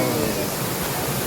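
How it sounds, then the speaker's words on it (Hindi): Waterfall at a Kainchi Dham hill temple outing, a steady, loud broadband rush of falling water filling the whole brief moment with no break. "झरना बह रहा है।"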